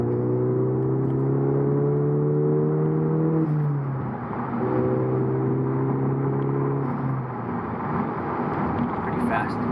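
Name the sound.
Volkswagen GTI stage 2 accelerating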